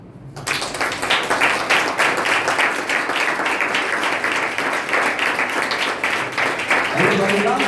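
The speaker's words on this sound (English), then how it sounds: "Everybody clap." A roomful of people clapping in a classroom or meeting space, dense sustained applause that starts suddenly and holds steady for several seconds, with voices mingling underneath near the end.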